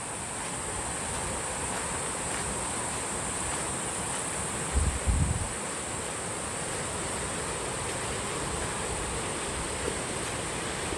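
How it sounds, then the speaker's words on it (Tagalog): The Mui Wo waterfalls in Hong Kong roar as a steady, dense rush of falling water, constant and close throughout, with a couple of brief low thumps near the middle. "Tunog ng tubig."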